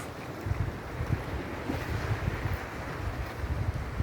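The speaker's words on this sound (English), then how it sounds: "you can hear the waves hitting this." Steady rush of Caribbean Sea waves washing against rocks at Negril, Jamaica, with wind buffeting the microphone throughout; no voices.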